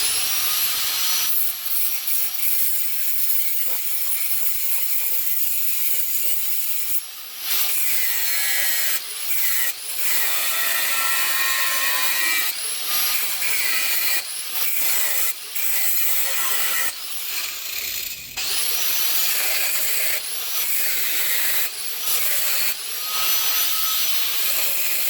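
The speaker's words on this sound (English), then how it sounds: "this is what we got now that we cut it out with the grinder" An angle grinder with a grinding disc cuts a knife blank out of steel stock, a loud, steady high-pitched whine with short dips and restarts throughout, and no talking.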